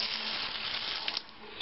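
Water runs steadily from a repaired bathroom faucet, a constant close hiss of flow with a couple of small splashes near the end.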